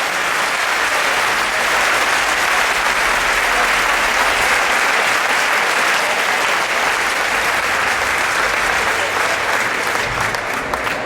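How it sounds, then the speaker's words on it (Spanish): An audience at a gathering in O Grove gives a loud, sustained round of applause for a man and his family, thick continuous clapping that stays strong throughout with no speech over it. "Quería pedir un fortísimo aplauso para ele e para a súa familia"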